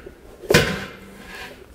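A drawer of a kimchi refrigerator slides and thuds shut once, a single close, fairly loud knock with a short rattle, followed by faint room noise.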